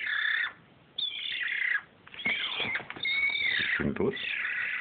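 A young foundling magpie makes harsh, raspy calls and squawks in repeated bursts, loud and near.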